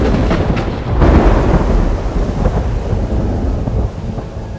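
Powerful thunder from a horizontal lightning strike over Tokyo at night, a heavy rumbling crack swelling early and rolling on with steady rain and wind noise beneath.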